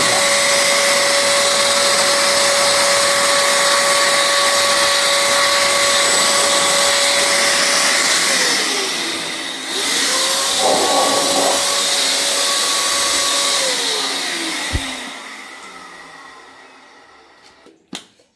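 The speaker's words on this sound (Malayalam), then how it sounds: "ഈ എയർ ഇത് വെച്ച് നമുക്ക് ഇതിൻ്റെ ഫിൽറ്ററൊക്കെ ഈസി ആയിട്ട് ക്ലീൻ ചെയ്യാം" A household vacuum cleaner blows air to clean its filter with a loud, steady whine and roar for about fifteen seconds. The pitch dips and recovers midway, then the motor winds down and falls silent, with a couple of small clicks at the end.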